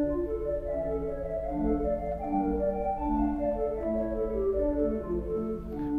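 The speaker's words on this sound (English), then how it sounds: "We've got a double flute, 8." Austin pipe organ at First Baptist sounding its double flute 8-foot stop, a sustained, full, breathy chord line that moves slowly and plays loud and steady with no talking.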